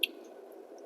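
A seed-filled lemon is squeezed by hand, producing a brief, close, wet squish that ends sharply after a moment of near quiet.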